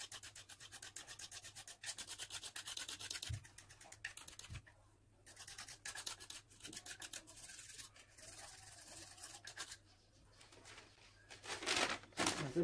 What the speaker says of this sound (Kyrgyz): Эми кайрап туруп кесип беребиз.